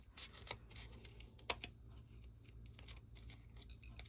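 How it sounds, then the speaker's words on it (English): Quiet crisp snips and clicks of scissors cutting paper, irregular and close, over a low steady hum. "I'm going to take my scissors, and I am just going to cut through this"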